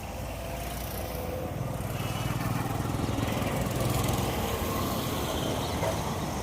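A vehicle engine from Kalyan runs steadily and close for the whole stretch, a continuous rough rumble with no breaks or speech over it.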